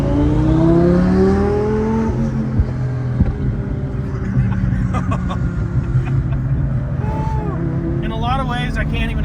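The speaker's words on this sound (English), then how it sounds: "So you still get lots of good V10 noise and turbo noise, which is an amazing combination." A 2000HP Lamborghini twin-turbo V10 with no muffler revs loudly up close, its engine drone rising and falling before sharp turbo whistles and pops near the end.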